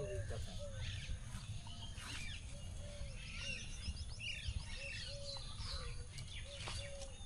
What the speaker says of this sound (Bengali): কত রকম পাখির ডাক বলুন তো।